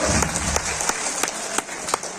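Audience at an insurance motivational talk clapping, a dense, steady round of applause from many hands, loud and close, sustained throughout with a few sharper claps on top.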